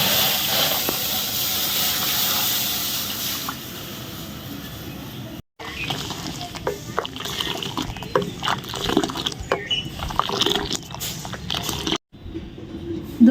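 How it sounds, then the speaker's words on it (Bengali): Milk for chhana boiling in a pot on the stove, a steady steamy hiss and bubbling that runs throughout, with a couple of brief cuts and scattered clinks. "দুধটা ফুটে গিয়েছে"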